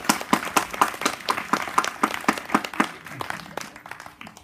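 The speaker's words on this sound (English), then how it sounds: "they were supposed to be up here before the applause ended" A theatre audience applauding a special guest at a live comedy show, with sharp, fairly sparse hand claps ringing out near and loud before gradually thinning and fading.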